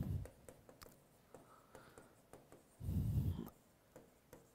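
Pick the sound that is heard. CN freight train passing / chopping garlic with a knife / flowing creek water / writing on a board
writing on a board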